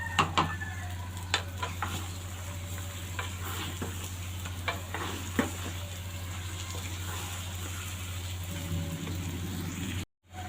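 Raw mango pickle with jaggery sizzles gently in a pan, with a continuous soft frying hiss, repeated stirring scrapes and a steady low hum beneath.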